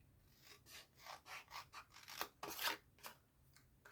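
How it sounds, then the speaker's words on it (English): Scissors snip through paper for a small treat box in a run of quiet, close cuts, each one a short rasping crunch, with no voice present. "So not cutting away, just cutting from the bottom corner to the top corner."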